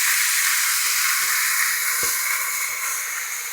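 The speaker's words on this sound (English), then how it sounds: "we're going to add in our onions and peppers" Onions and peppers hit a hot pan in a large batch of teriyaki chicken, giving a loud, steady broadband sizzle and hiss with a few faint clicks and knocks underneath, no voices.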